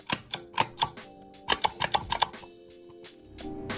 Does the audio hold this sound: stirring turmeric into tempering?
no